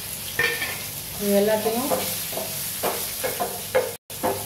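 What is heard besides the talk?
frying raisins, curry leaves, green chilli and ginger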